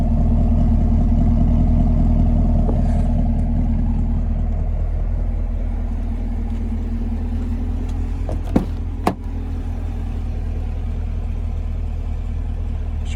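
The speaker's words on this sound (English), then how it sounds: "A little close up on that exhaust." A 2020 Chevy Camaro LT1 with a 6.2-liter V8 idles up close at the exhaust, a loud, steady, deep rumble that holds throughout with a couple of sharp clicks near the end.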